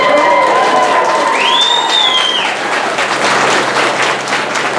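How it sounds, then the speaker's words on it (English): Wedding guests burst into applause and cheering right after the couple's kiss, a loud, continuous wash of clapping with a whistle rising and falling over the crowd. "Crowd goes wild."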